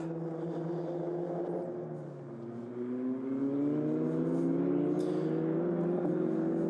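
A Formula Regional Europe racing car, among them a Van Amersfoort entry, screams past with its engine note climbing steadily as the car drives through a double left-hander, loud and close.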